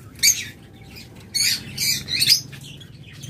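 Pet lovebirds, cockatiels and budgerigars give a few sharp, close squawks and screeches in quick bursts over a quiet background.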